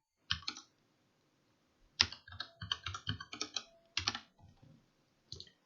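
Close, quiet clicking of keys on a computer keyboard as an IP address is typed, an isolated keypress, a pause, then a quick irregular run of taps and a final couple of presses.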